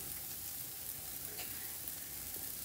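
Mushrooms for a sandwich frying in a pan over high heat, giving a steady, soft sizzle with faint crackles throughout, close by and with no talking.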